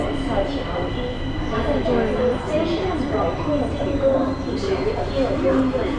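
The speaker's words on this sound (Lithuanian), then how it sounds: "važiavo traukinys" The rumble of a metro train running through a station in China, heard under people talking nearby.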